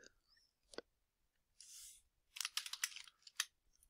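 Someone types a security event query on a computer keyboard, producing quiet, close clicking keystrokes in short uneven bursts with pauses between them.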